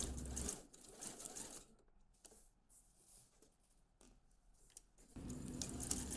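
A domestic sewing machine locks in stitches on a western blouse, loud bursts of fast motor whir at the start and end with quieter fiddling and handling noises between.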